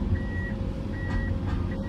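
A rock truck hauling topsoil on land being cleared for parking gives steady, evenly spaced reversing beeps over a loud, low rumble of heavy machinery.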